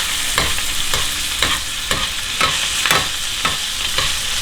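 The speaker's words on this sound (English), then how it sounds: "And then we're gonna get a nice spoon. Okay, and let's baste." Beef steak fries in foamy butter in a pan while a spoon bastes it, with regular metallic scoops and taps about twice a second over a constant close sizzle.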